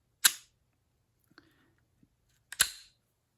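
A Canik MC9 pistol round pushed in and feeding: two sharp metallic slide clacks about two seconds apart, with faint small clicks between them in a quiet room.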